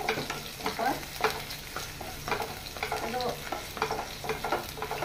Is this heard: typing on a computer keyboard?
no